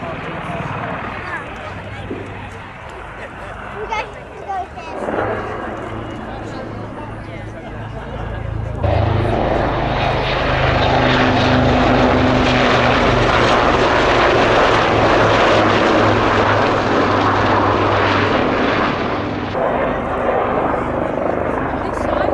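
Lynx helicopters fly in at the Yeovilton air show, their rotor and engine noise swelling from a distant thrum to a loud, sustained roar, with a crowd and commentary voice heard beneath.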